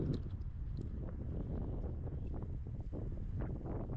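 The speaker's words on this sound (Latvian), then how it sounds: "Ūdens mocis" A jet ski drives past on open water, a steady broad engine and hull rumble heard at a distance through strong wind buffeting on the microphone, with no speech over it.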